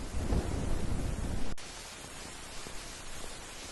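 Steady rain hisses during a rainy outing, heavy at first with a low thunder rumble beneath, then drops abruptly to a lighter, even patter.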